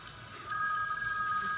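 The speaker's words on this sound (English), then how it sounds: "Oh, the phone's ringing." A telephone rings inside the horror video game Babysitter Bloodbath: a steady electronic double-tone ring starts partway in and continues clearly and fairly loudly over a faint background hum.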